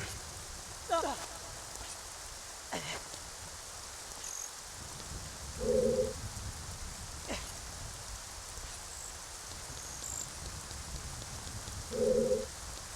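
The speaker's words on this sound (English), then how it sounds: "Ever since I played the Song of Storms, it's still raining in here." Steady rain from the Song of Storms in Ocarina of Time, a soft continuous downpour hiss with occasional drips and a couple of faint chimes, quiet and alone.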